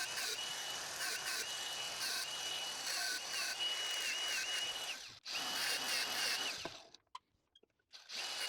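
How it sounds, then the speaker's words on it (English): An angle grinder grinding steel off a lathe trepanning tool, a steady loud high whine with fluctuating pitch as it bites, close, then cutting out abruptly and spinning down to near silence. "let me see if I can take off most of the steel with an angle grinder"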